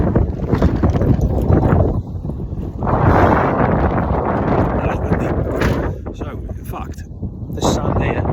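Gusty wind buffets and rattles a microphone outdoors on a sandy beach at night, a loud continuous broadband roar with surges and brief lulls, while a person talks underneath.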